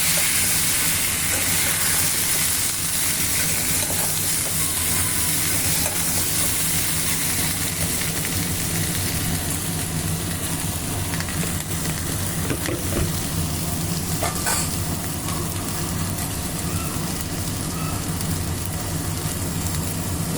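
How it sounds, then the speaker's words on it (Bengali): Elephant foot yam pieces fry with spices beside prawns, a loud, dense sizzle and hiss holding steady throughout, with occasional faint stirring scrapes beneath, no one speaking. "এবার দিয়ে দিব ওলগুলা এবার মশলাগুলো অ্যাড করবো"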